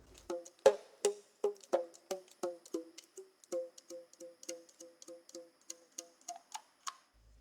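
Mouth harp plucked with a finger, a quick run of about twenty sharp twangy plucks, each ringing briefly, evenly paced and close, with the pitch rising toward the end.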